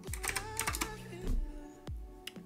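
Soft, close keystrokes tap out a search in a sound-effects menu on a computer keyboard, irregular clicks spaced through the moment with faint background noise.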